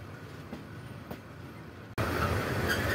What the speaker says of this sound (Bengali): এই মুহূর্তে আমাদের ট্রেন পৌঁছে গেছে তার যাত্রা বিরতির 7ম স্টপেজ মেলান্দো বাজার রেল স্টেশন